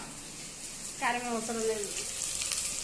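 Masala with coconut and coriander powder sizzling in hot oil, a soft steady fry heard close while someone speaks briefly over it.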